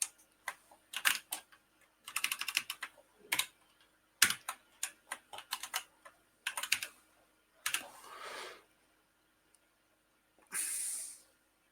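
Someone types on a computer keyboard while editing code in Emacs during a live refactoring session. Close, crisp key clicks come in quick irregular bursts with short pauses, ending in a longer hissy keystroke run. No voices.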